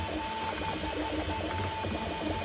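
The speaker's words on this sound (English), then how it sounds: "I've got a very fast printer. This is the Allegro Neptune 4 Pro." An Allegro Neptune 4 Pro 3D printer running at full speed while printing an adapter part gives off a steady, close mechanical whir with fast, busy stepper-motor chatter and a constant fan hum throughout.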